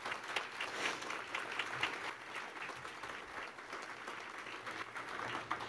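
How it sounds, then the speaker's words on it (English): An audience at a hybrid group meeting gives a round of applause: steady, moderately distant clapping from many hands that continues throughout without pause. "join me in a round of applause for that group of people"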